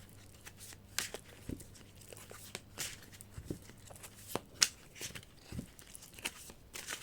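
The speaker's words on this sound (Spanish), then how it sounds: "Yo voy a barajar las cartas y elegiré 3." Tarot cards being shuffled by hand, a close, quiet run of soft papery riffles, slaps and rustles in irregular bursts.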